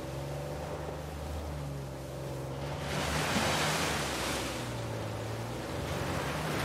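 Rushing water of a waterfall inside a secret cave in Uncharted 4, a steady broad roar that swells louder midway, with low tonal game music humming underneath and no voices.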